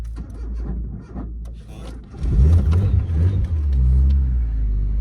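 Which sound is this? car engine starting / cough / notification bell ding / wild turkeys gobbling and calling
car engine starting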